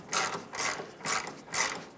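A ratchet wrench tightens the rear control arm mounting nut on a 2003-2011 Mercury Grand Marquis, four quick bursts of rapid clicking with short pauses between strokes, close and clear.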